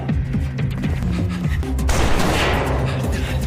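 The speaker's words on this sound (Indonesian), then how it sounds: "Sempat terjadi adu tembak yang cukup intens" Intense gunfire exchange in an action film scene, dense bursts of shots and booms over a low rumbling score, shifting into a harsh crashing wash of noise, loud and close.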